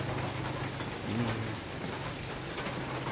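Heavy rain pours steadily in a dense, continuous hiss, drumming on surfaces close by without a break.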